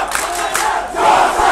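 Supporters of St Joseph's cheer and shout at a rugby match, a loud, dense crowd roar that swells and ebbs continuously with chanting voices.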